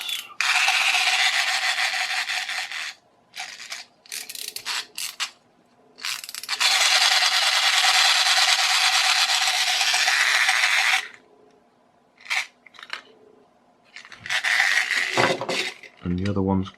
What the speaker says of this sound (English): Wind this one up and the tail flaps.